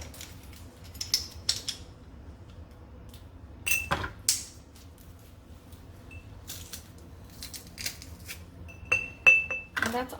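Minced garlic scraped into a glass jar in a kitchen, quiet clinks and taps of utensil on glass in scattered bursts, with a few sharper knocks.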